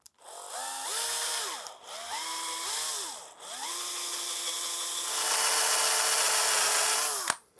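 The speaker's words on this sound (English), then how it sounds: "Now we drill." A power drill bores into a wooden Nazgul sword prop: the motor whine rises and falls through several close, loud bursts, then settles into a sustained grinding drone that ends with a sharp click.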